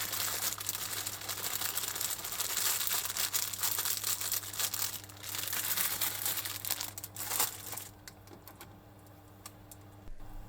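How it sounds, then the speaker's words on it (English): Shimeji mushrooms are pulled apart into small clusters by hand while cooking chicken and mushroom udon, giving a close, continuous soft crackling and snapping over a steady low kitchen hum. "Break apart the shimeji mushroom into small clusters."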